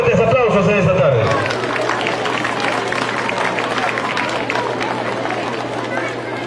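Dense applause from the crowd at a Christmas shepherdess singing contest welcoming a presenter, sustained and fairly loud after a brief voice at the start, with some crowd murmur mixed in.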